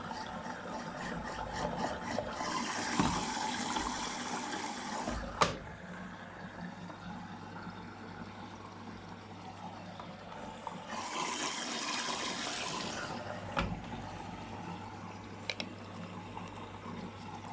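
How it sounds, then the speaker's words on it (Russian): An LG F12B8MD1 washing machine draws in water for its final rinse on a cotton 40° cycle. Two soft hissing rushes of inflow rise over a low, steady machine hum, with occasional small clicks. "Все, набор воды. Финальное полоскание."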